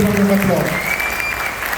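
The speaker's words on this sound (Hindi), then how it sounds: "तो क्या इनके लिए जोरदार तालियां होनी चाहिए?" Loud applause from an audience at a business leadership training event, a dense burst of clapping heard close, with a voice audible over the start.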